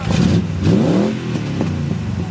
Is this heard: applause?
no